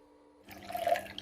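Water is poured into a 1300-watt high-speed blender holding peeled almonds, a short soft splashing fill that starts after a quiet moment and swells briefly.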